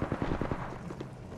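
Gunfire in the video game Apex Legends, a quick burst of several rapid shots at the start that tails off into fainter scattered reports over about a second, with no talk.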